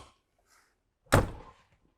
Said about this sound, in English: And it just latches to the main entrance door there.